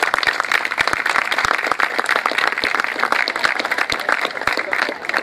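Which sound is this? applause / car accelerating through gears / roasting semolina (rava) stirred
applause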